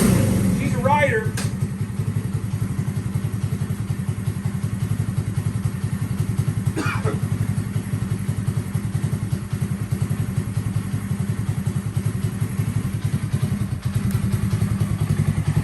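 A pieced-together motorcycle with a drilled-out exhaust idles low and steady, a loud close throbbing rumble with a few faint clatters, running alone throughout.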